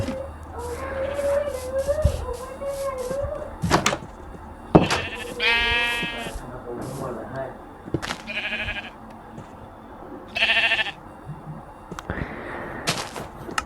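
Sheep bleating in Minecraft: several wavering, nasal bleats scattered through the stretch, loud and close, mixed with clicks, thuds and other game noises.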